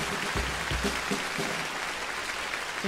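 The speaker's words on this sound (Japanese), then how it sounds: "どうぞ拍手を。" Concert audience applauding the brass section, a steady broadband wash of clapping that holds evenly at moderate level throughout, with a few low thumps early on.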